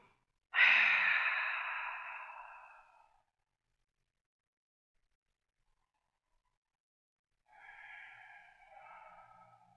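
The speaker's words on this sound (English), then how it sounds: "Find those big, deep breaths." Deep yoga breaths: one long, fairly loud exhale that fades over about two seconds, then a quiet pause and a softer, longer breath toward the end.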